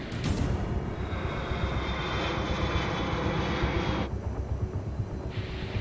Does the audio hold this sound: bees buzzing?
no